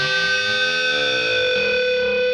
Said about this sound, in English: Now, when you bend up, you'll notice that the B sounds flat.